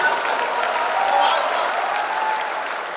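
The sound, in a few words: audience applause at poetry gathering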